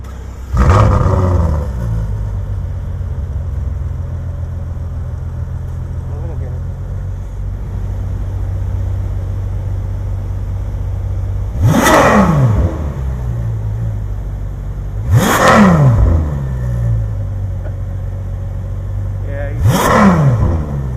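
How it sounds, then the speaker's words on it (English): A Ferrari F12 TDF V12 starts up with a sharp blip, then settles into a loud steady idle broken by three more short revs spaced a few seconds apart, with people talking nearby. "The F12 TDF is leaving, so we're gonna have a little startup."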